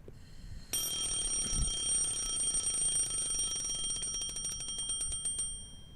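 A digital alarm clock starts ringing abruptly after a short quiet pause, a loud, steady electronic chime with continuous tones that turn into rapid pulsing beeps toward the end, heard close and alone.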